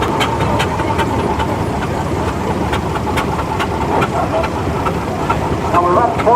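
A Wallace and Stevens diesel road roller runs steadily at a steam rally, its engine a rough mid-pitched chug with a regular rhythmic knock, mixed with outdoor crowd background and faint voices.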